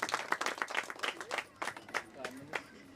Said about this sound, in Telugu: అందరం గట్టిగా చప్పట్లు కొట్టి దేవుని కనపడతాం.